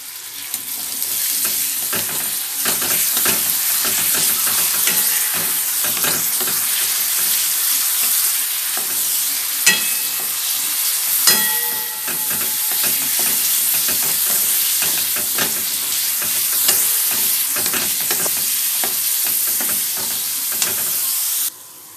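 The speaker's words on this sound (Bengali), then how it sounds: "এবার পেঁয়াজটাকে একটু ফ্রাই করে নিতে হবে।" Onions fry in a pan with a loud, continuous hissing sizzle close up, dotted with occasional crackles and spatters and a few light utensil clicks, cutting off abruptly at the end.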